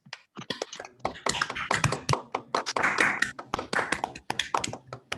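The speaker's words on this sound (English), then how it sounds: "Let's give Mikala a round of applause" Scattered applause from a small audience after a mathematics seminar talk, made of irregular individual claps of varying loudness, fairly close, with a few voices murmuring among them.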